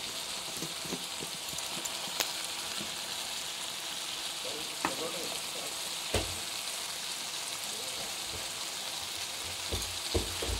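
Turmeric and chili powder frying in hot oil, a steady crackling sizzle with scattered sharp pops and clinks of a stirring spoon.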